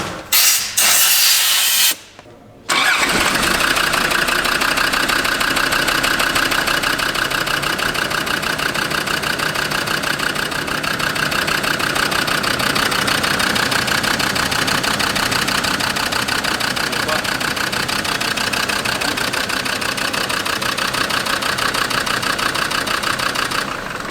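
Diesel car engine of the AWX 1.9 type idling in a workshop, a steady, even mechanical drone with a fine ticking texture running continuously after a brief rustle and silence at the start.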